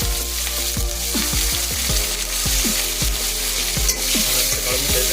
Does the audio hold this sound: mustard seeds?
yes